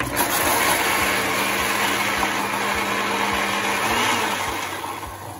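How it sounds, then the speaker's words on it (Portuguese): A kitchen blender whirs steadily as it beats three eggs with half a tablespoon of margarine for a bakery-style pudding, a loud continuous motor drone that eases off near the end. "Colocar no liquidificador primeiro os três ovos e a meia colher de sopa de margarina. Vamos bater rapidinho."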